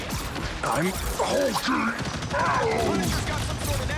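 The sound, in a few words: gunfire hitting the player in the video game Marvel Rivals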